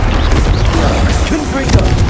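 A Bombarda blasting spell detonates in the game Hogwarts Legacy, giving a loud, heavy booming burst with rumbling debris over about two seconds.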